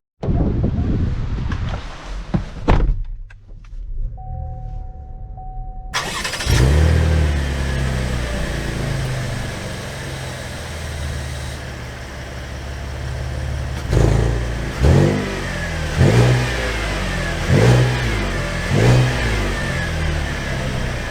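A 2022 Chevy Traverse RS pulls away, its mid-pitched engine revving up through several surges of acceleration, with steady road and wind noise inside the cabin.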